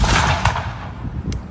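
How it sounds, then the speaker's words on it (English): A black powder flintlock musket fires at a museum demonstration: one loud boom that fades into a rolling outdoor echo, with a second sharp crack arriving near the end, and no talking. "the flint shall strike the steel, and with it, ignite the pan."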